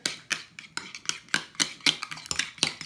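Rapid clinking and scraping of a utensil stirring a lime juice mixture in a bowl, a quick irregular series of sharp ticks close to the microphone with no voices.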